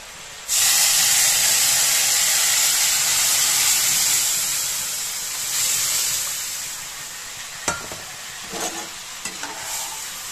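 Masoor dal lentils hit a hot pan of fried raw mango with a sudden loud sizzle and hiss that slowly fades, followed near the end by a few stirring clinks.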